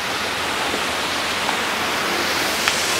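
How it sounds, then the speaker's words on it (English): Water splashes steadily at the Pineapple Fountain in Charleston, a continuous broad hiss of falling water heard up close with no break. "So this is the Pineapple Fountain, which is a symbol of hospitality."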